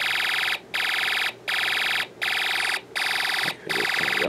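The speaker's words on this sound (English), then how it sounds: "we get that laser gun sound effect coming out of the speaker" A Snap Circuits electronic speaker gives a laser gun sound effect: loud, steady, buzzing synthetic tone bursts repeating in a regular on-off rhythm, six pulses with short gaps, close and continuous.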